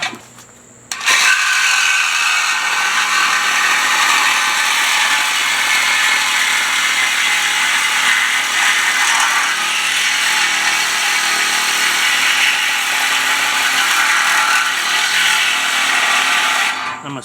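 A power tool cuts through a stock car exhaust pipe in one long, loud, continuous grinding run that starts abruptly after a second of quiet and holds steady until it stops near the end.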